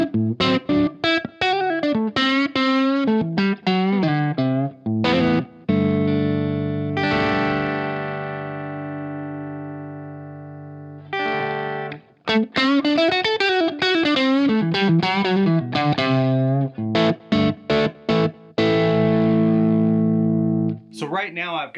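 Electric guitar with a bridge humbucker played through a G2 effects unit into a clean Suhr Bella amp: processed sustained chords alternate with quick picked runs, loud and close, with a long held chord in the middle and short pauses between phrases.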